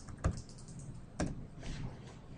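A couple of crisp, separate keystrokes on a computer keyboard while a wall height is typed in, tapped close by over a quiet room hum.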